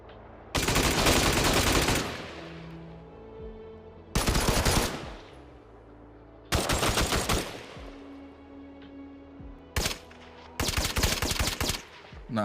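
A gold AK-47 fires in a video game: four loud, close bursts of automatic rifle fire roughly two seconds apart, with quieter game ambience and faint tones between them.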